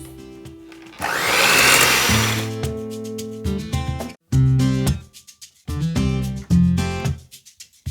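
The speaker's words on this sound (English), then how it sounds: "I am just going to beat this with my hand mixer until it's light and fluffy" An electric hand mixer beats whipped cream in a bowl for a pumpkin vanilla cream pie, its motor whirring loudly in a series of starts and stops, close up with no talking.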